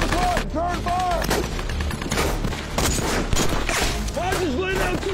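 Dense, continuous gunfire and explosions in a D-Day war film, many overlapping shots and bursts under shouting soldiers' voices and whistling projectiles.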